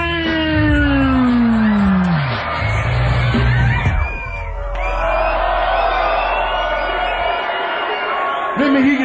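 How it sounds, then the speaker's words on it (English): A concert crowd at a live hip-hop show in London screams and cheers loudly and continuously, a dense roar of yells and whoops, mixed with amplified music and a performer's voice. "Now scream."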